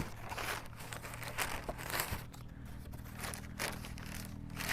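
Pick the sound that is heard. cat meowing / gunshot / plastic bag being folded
plastic bag being folded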